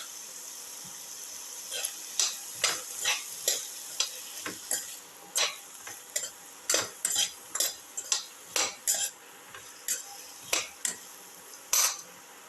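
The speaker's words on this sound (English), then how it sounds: "Salt and mix thoroughly." A spoon clinks and scrapes around a pan as potato and snake gourd are stirred with salt, about two dozen sharp metallic taps spread irregularly over a faint background hiss, close by and with no talking.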